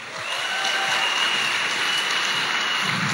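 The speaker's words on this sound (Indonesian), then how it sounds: "Tepuk tangan untuk beliau." Audience applause at a network marketing gathering, a full burst of crowd clapping that rises within a fraction of a second and continues evenly to the end.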